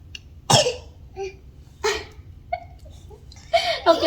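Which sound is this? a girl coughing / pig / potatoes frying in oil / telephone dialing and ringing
a girl coughing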